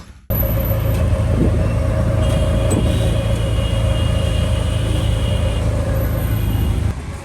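Car driving through city traffic in India, a loud steady engine rumble and road noise from inside the vehicle, with faint higher tones and clunks over it, running continuously before fading at the end.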